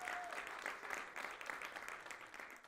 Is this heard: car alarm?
no